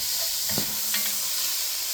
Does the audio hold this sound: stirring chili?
yes